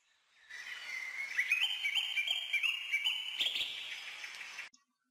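Several birds chirp and trill in a steady overlapping chorus, bright and fairly close, with a soft background hush; no talking.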